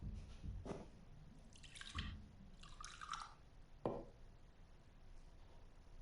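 Gin is poured into a glass in Backbone: quiet, short splashes and drips of liquid in a few separate bursts, close and soft against a hushed background.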